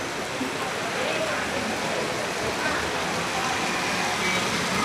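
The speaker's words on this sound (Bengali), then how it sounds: "বৃষ্টি দেখে আরো জোরে আইতেছে" Heavy rain pouring down steadily, a dense broadband hiss of close downpour that runs unbroken throughout, loud and even with no pauses.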